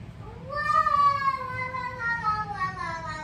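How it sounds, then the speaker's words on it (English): At home, a young boy's high, sliding voice rings out in a long wailing call over low background noise, with the sound of children playing nearby. "Sorry if you guys can hear my boys"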